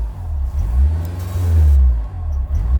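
A flooded Honda S2000 engine idles roughly while stopped, a low uneven rumble that surges and dips in loudness, close and alone with no talking.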